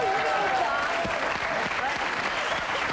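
A television studio audience claps steadily for table tennis players Jean-Philippe Gatien and Patrick Chila, a dense, even wash of applause lasting throughout with no break.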